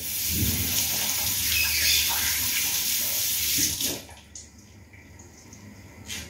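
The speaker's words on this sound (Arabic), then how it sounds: "دابا غنزيد نغسل يدي" Hands are washed under a running kitchen tap, a close, steady hiss of water with splashing that stops abruptly partway through, leaving quiet room sound and faint drips.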